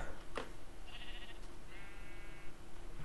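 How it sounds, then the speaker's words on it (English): Sheep bleats from the Minecraft video game come in two short, wavering bursts over a steady background hum, with a brief click near the start. "Hello, Mr. Sheep."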